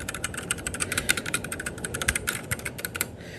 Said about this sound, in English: Favorite keyboard is the Keychron K6. I have it in front of me here. I'll give you a little sound test.